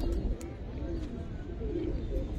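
Giribaz pigeons coo softly in a loft, low and muffled, with a faint steady murmur underneath and a few quiet voices around them.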